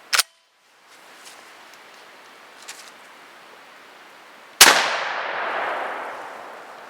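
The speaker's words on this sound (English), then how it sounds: "So let's try the popper with 700X in it." A shotgun firing a blank popper shell loaded with 700X powder: a small click at the start, then a single loud, sharp blast with a long, noisy decay that trails off.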